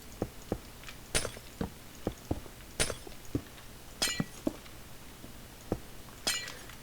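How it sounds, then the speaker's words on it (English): Glass blocks are broken and placed in Minecraft, giving a rapid series of sharp clinks and taps with several brighter shattering crashes spaced every second or so, close and alone without talk. "I'm gonna actually replace this with glass real quick."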